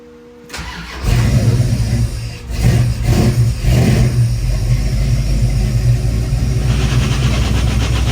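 A car engine starts up and settles into a loud, steady idle with a few revving surges, close by and with no talk over it; the car is due for transmission fluid.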